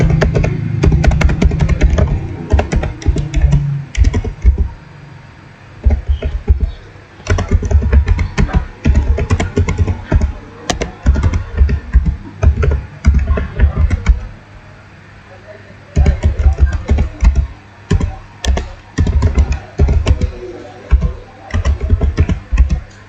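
Rapid bursts of typing on a computer keyboard during a typing speed test, key clicks clattering in dense runs with short pauses between, close and fairly loud, with a little speech mixed in.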